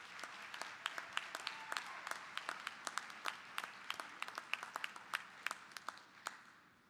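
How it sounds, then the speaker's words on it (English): At a university commencement ceremony, the crowd applauds graduates' families and friends with crisp, distinct claps that build into steady applause, then thin out toward the end. "Please turn and applaud your families, friends, and loved ones and show your appreciation for their support"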